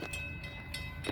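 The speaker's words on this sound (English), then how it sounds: "This video looks like a rock train from what I can see." FEC freight rock train rolling past in Cocoa, a steady low rumble of wagons with clattering bursts, continuous and fairly near throughout.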